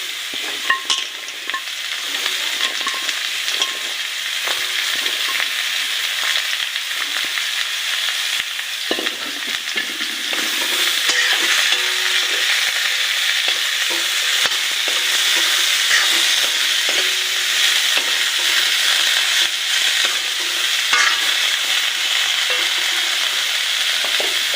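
Red amaranth stir-fried with onion and potato in a pan gives a steady, close sizzle throughout, with scattered scraping stir strokes and a slight rise in intensity midway, no voices.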